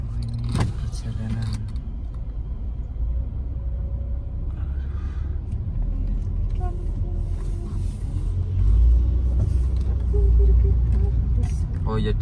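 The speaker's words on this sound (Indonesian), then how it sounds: "Ini mobil saya teman-teman. Ini mobilnya orang Filipina teman-teman." Steady low rumble of a Filipino-owned car driving through a Korean neighbourhood, heard from inside the cabin with constant road noise that swells louder toward the end.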